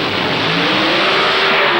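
Pro Stock drag racing cars, including an Oldsmobile, roar off the line at a European drag strip, a loud, dense, sustained engine blast with rising revs filling the whole moment.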